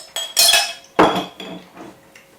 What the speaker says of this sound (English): I just take a spoon of honey here.